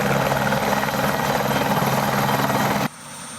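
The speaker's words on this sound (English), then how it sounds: "landed via helicopter at Malvern minutes before Brown's final play" A helicopter arriving at a Friday night high school homecoming football game, its loud, steady rotor thump and engine drone continuing close by for about three seconds before cutting off abruptly.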